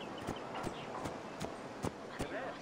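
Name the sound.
horse hooves clip-clopping in Assassin's Creed Origins video game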